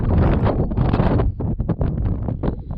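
Strong wind gusting across the summit of La Soufrière volcano in Guadeloupe, a loud, steady roar battering the microphone, then breaking into rougher buffeting bursts, with no talking.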